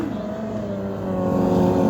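A stunt motorcycle at a motorbike show, its rear wheel spinning in a drift, making a sustained engine drone that holds steady and then swells slightly louder, fairly close.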